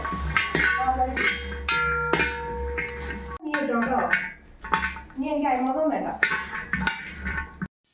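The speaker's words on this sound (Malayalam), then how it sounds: "ഇത് നമ്മൾ വീട്ടിലാക്കിയെടുത്ത മഞ്ഞൾ വറുത്തെടുക്കുകയാണ് കേട്ടോ." Home-made turmeric roasting in a pan, with metal clinks and scrapes of stirring running steadily under voices and tonal background sound.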